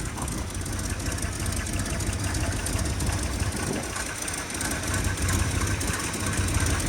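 A 1969 Dodge Dart Swinger 340 engine idles steadily with a low, slightly rough knocking rumble, running not quite right, constant and moderately close, no voices.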